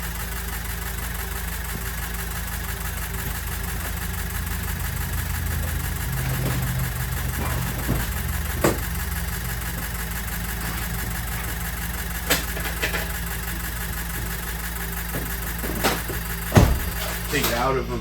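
A Ford 6.0 Powerstroke diesel with a ZF6 gearbox, abandoned for years, idles with a steady low rumble and some uneven knocking. Occasional clunks sound close by, and someone talks over the engine.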